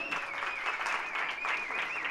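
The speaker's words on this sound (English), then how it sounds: "give yourselves a round of applause" Audience members at a global CEO summit give a round of applause, a soft, steady clapping that sits fairly distant, with a voice speaking over it.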